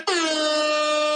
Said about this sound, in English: I was laughing at the air horns there